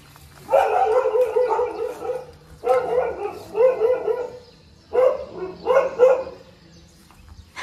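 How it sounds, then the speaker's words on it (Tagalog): A dog barks in three clustered bursts of several sharp barks each, fairly close, with quiet pauses between. "may aso."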